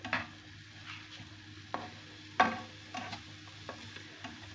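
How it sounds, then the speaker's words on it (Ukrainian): Onions and green onions sizzle steadily in a frying pan while a utensil scrapes and stirs them in short, irregular strokes. "Я це все перемішаю."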